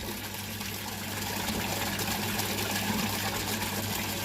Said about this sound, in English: I have noticed I can hear the pump at night in my room.